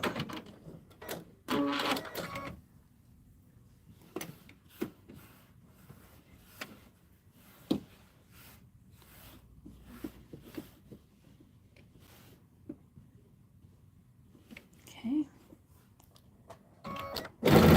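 A sewing machine straight stitches a June Tailor Casablanca placemat in short, quiet bursts, with scattered clicks and clatters between long near-silent pauses and a louder rattle at the end.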